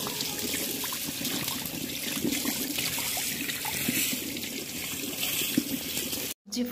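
Freshly picked garden leaves rinsed under running tap water for cooking a fish masala, a steady continuous splashing trickle throughout at moderate level, with a brief break near the end.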